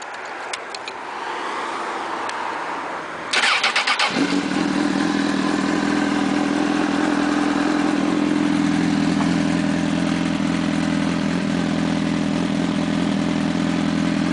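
A 2006 Honda CBR1000RR with an Arata titanium full exhaust cranks briefly and fires up, then settles into a loud, steady idle close by with no talking.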